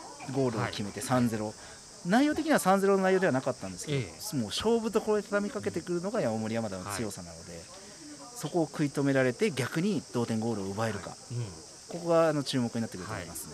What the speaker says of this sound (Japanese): セミの鳴き声が聞こえてきて